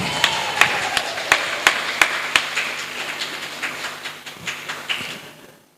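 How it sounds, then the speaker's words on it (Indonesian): An audience at a Quran recitation competition final claps in a burst of sharp, rhythmic hand claps that fade toward the end, clearly separate strikes giving way to quieter scattered ones. "Agar semakin meriah, beri tepuk tangan kita semua."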